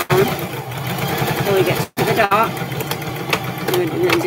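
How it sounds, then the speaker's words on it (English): A domestic sewing machine runs a steady, fast stitching rhythm down a seam of short pants, pausing briefly midway, with a person talking over it. "And we're going to just sew down until we get to the dot."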